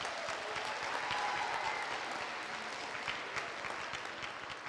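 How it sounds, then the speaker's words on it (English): Audience applause for student performers at the close of a school performance event, steady dense clapping throughout from a sizeable crowd, fairly distant and even in level. "Let's please give another round of applause."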